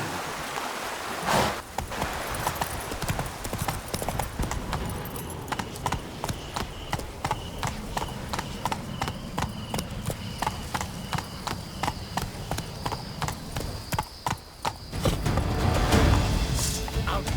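Horse hooves gallop in The Witcher 3 video game, a fast steady clip-clop rhythm close up that runs throughout, with a rushing wash of ambient noise underneath.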